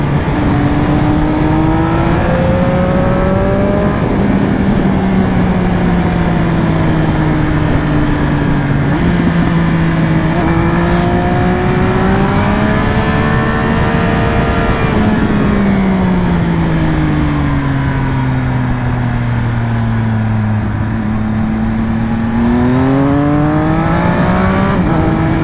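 A 2020 Triumph Speed Triple RS motorcycle engine revs hard toward the top of its rev range, its loud, continuous pitch climbing and dipping through gear changes across a long close-up ride with no talk.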